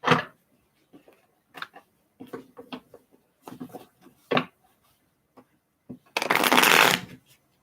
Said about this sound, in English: Let me shuffle these cards a little bit here.